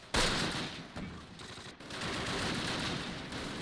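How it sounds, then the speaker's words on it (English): Mortar barrage in the Close Combat World War II strategy game, heard as a dense, continuous rumble of blasts and rapid gunfire that holds steady and loud for several seconds without speech. "Mortar barrage going out."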